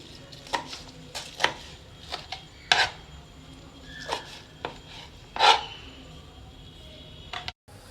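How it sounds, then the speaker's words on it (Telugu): Knife chopping fenugreek leaves finely on a board for a pearl millet dish, a series of separate, fairly close cuts at an irregular pace, with no talking. "మీకు కొంచెం మాత్రం కట్ చేసి చూపిస్తున్నాను సన్నగా కట్ చేసుకోవాలంటే మళ్ళీ మళ్ళీ ఇలాగా అదే పనిగా కట్ చేసుకుంటూ ఉంటే సన్నగా అవుతుంది"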